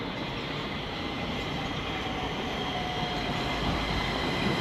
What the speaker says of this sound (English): There is a southbound train coming in now on the southbound track